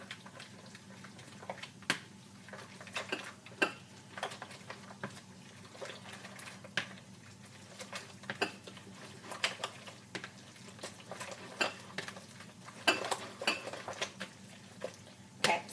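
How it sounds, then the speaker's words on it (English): A whisk clinks repeatedly against a bowl while beating cream, green onion and cheeses into a crab quiche filling, sounding as irregular close metallic taps over a quiet background. "we're gonna give that a whisk"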